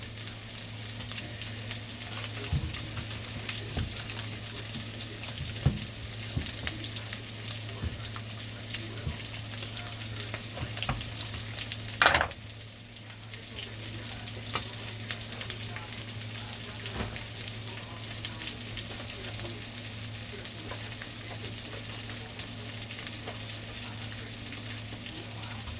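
Two steaks fry in a hot skillet with a steady, fairly quiet sizzle running throughout, broken once by a brief louder clatter near the middle.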